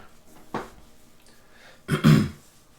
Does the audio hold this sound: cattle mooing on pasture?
no